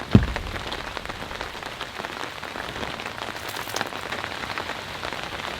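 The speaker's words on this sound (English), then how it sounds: "we've experienced heavy rainfall up to this point" Heavy rain pours onto a tarp and tent at a campsite beside a vehicle, a dense, constant patter of drops drumming on fabric close by, with one sharper knock at the start and no talk.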